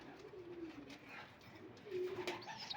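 Young pigeon squabs cooing in a loft, soft low murmuring coos repeating close by with a louder burst near the end, no talk.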